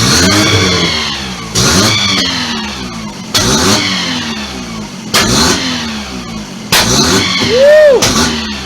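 A 1990 Mazda RX-7 rotary engine with its intake disconnected, revving in repeated loud bursts about every 1.5 to 2 seconds, each rev rising and falling, heard up close with no talking.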